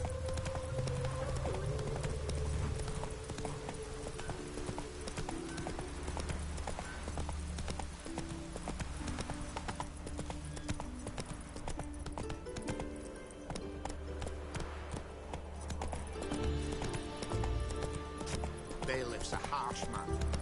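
Hooves of Roach, the horse in The Witcher 3, clip-clopping in a steady walking rhythm throughout, close and clear, with a game soundtrack and occasional speech running underneath.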